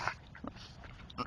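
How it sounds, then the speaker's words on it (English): Small white puppies yip and whimper up close in a couple of quick bursts, faint and brief, with a little scuffling between. "Attack of the puppies!"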